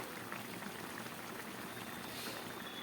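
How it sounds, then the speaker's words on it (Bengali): A pot of curry at a full boil gives a soft, continuous bubbling and hiss, faint and even throughout with no voices. "তরকারিটা পুরোপুরি ফুটে উঠেছে"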